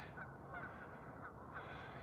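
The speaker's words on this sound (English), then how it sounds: "This goose standing up here, this couple standing up here surveying." A goose standing on a coulee slope honks in short repeated calls, about four evenly spaced, faint and distant over steady outdoor wind noise.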